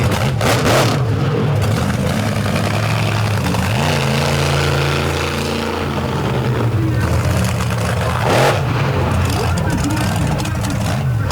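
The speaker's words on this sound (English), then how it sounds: "The loudest truck on premises right now" A loud modified pulling truck, Sinistar, revs and roars on a clay track at a 2023 All Star finals truck pulling competition in Coon Rapids, Minnesota, its engine surging in waves while an announcer talks over it.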